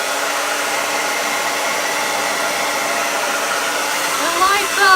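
A Vivid & Vogue hair dryer runs at close range with a loud, continuous whoosh of steady airflow, unbroken from start to finish.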